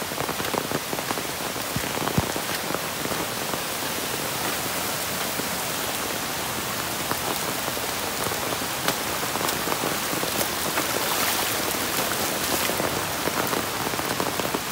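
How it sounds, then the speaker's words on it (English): Heavy rain pouring down on a goat farm, a dense, steady, loud hiss of drops hitting the ground and surfaces, continuous and alone. "the rain just come down really heavily"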